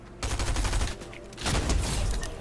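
Rapid gunfire from a favourite gun in the video game Fortnite, two dense close bursts of shots separated by a short lull.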